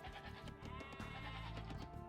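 Sheep in a strategy video game bleat a few times over a steady bed of game sound and music, the short wavering calls sitting at moderate loudness with no one talking.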